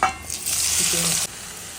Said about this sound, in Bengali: এই সেম তেলের মধ্যে আমি দিয়ে দেব গোটা জিরে